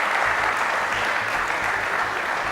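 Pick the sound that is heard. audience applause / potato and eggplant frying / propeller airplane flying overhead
audience applause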